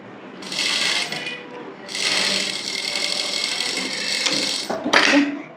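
Sewing machine stitching blouse fabric in two rapid, close bursts of mechanical chatter separated by a short pause, ending in a quick clatter, with faint talk underneath.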